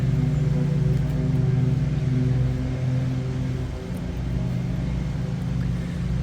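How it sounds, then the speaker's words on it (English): Lawn mowing and trimming equipment drones continuously at moderate distance in a New York church cemetery, a low steady tone throughout and no voices. "that's what they're doing at the moment, trimming and mowing the lawns."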